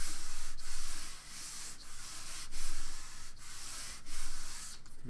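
A glued paper piece is rubbed down by hand onto a collage, making a run of soft, scratchy rubbing strokes in an irregular rhythm, close and fairly quiet, with no talk.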